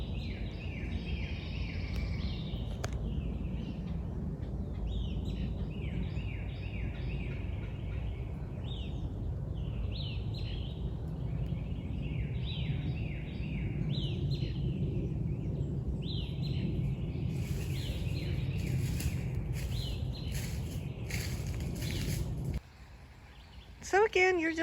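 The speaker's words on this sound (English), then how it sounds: "Who needs background music when you can hear all the birds?" Birds chirp and sing steadily at a moderate distance along a wooded walking trail at Wesleyan College in Macon, Georgia, over low ambient rumble and faint footsteps.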